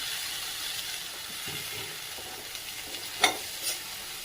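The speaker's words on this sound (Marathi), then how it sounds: "ह्या शेंगा छान अशा परतून घ्यायच्या आहे" Chopped green beans (farasbi) with red chili powder are stir-fried in a pan, giving a faint, steady sizzle with soft stirring scrapes and a couple of brief, sharper clinks near the end.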